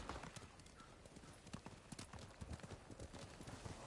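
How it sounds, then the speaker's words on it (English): Horse hooves clip-clop in a steady walking rhythm in the video game Ghost of Tsushima, soft and continuous throughout. "Do I have a horse? Where's my horse?"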